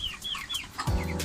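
Broiler chickens about 45 days old and ready for harvest cluck and chirp on a farm, several birds calling close by in quick overlapping bursts, with a lower cluck near the end.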